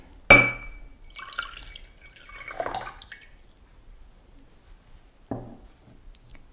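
Vinegar is poured into a drinking glass, a brief liquid splashing and trickling that lasts a couple of seconds and follows a sharp glass clink, with a second light clink near the end.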